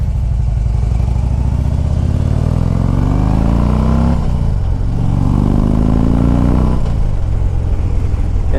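A 2014 Harley-Davidson Street Glide FLHX with the 103 engine pulls away on a test ride, its loud, close exhaust rising through the gears with two shifts and a steady rumbling drone with wind rush.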